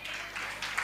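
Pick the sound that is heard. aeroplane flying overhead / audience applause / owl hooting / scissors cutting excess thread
audience applause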